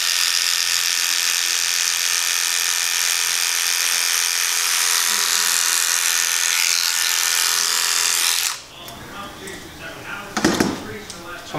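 Electric hair clippers buzz steadily and close for about eight seconds while cutting a boy's hair with a number two guard, then cut off, leaving a few short clicks and handling noises.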